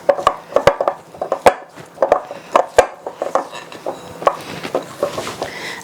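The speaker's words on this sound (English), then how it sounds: "So I'm going to scrape down the bowl." Spatula or spoon scraping around a mixing bowl holding butter and icing sugar, with repeated clicking knocks and short scrapes in an uneven rhythm, close and fairly loud.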